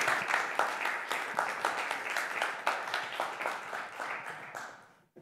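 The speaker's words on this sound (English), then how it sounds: "let's give them a big round of applause" An audience applauds speakers after a climate change and hope discussion, a sustained patter of many hands with rhythmic surges, moderately near, fading out sharply at the end.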